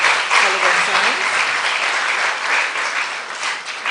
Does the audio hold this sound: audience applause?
yes